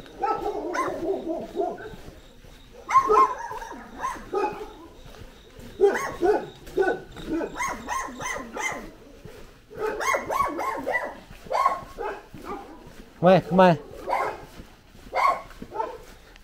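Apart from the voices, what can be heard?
dog barking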